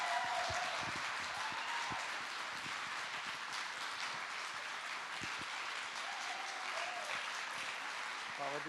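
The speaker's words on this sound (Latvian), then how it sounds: "Aplausi! Aplausi!" An audience at an award ceremony during a Christmas ball gives dense, sustained applause for the year's winner, with cheering voices mixed into the clapping.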